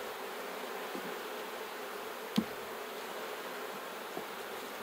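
A soft, steady hum of honeybees drifts from a horizontal beehive opened in spring, with one sharp knock partway through.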